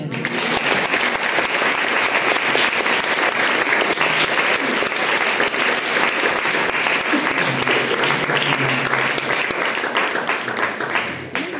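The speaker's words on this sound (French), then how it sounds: "Gloire à Jésus-Christ, on peut l'applaudir." A church congregation at a French-language service applauds loudly and steadily, dense sustained clapping filling the room for about twelve seconds with no break, tapering slightly at the very end.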